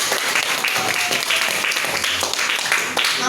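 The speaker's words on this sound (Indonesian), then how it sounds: "Kita beri aplaus dulu ya ke teman-teman." Applause from a class of students for their classmates after a presentation, a steady dense clapping that runs throughout, with some voices mixed in.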